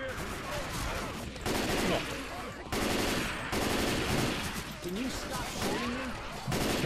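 Rapid automatic gunfire in the zombie shooter Left 4 Dead 2, loud bursts of machine-gun fire repeating throughout with voices calling out underneath.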